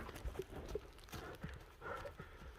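Horse hooves clip-clop in an uneven rhythm as a racehorse is ridden outdoors, fairly faint and steady with some background noise.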